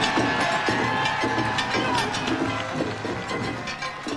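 A crowd at a Japanese boat swinging event cheers and shouts continuously, loud and close, with a rhythmic mechanical creaking pulsing underneath.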